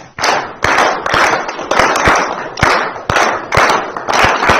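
Many hands clap in unison to a slow, even beat, loud close claps repeating about every half second with a little room echo.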